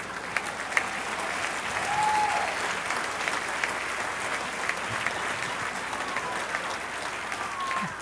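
A crowd applauds and cheers steadily in a large room, a continuous wash of clapping at moderate distance.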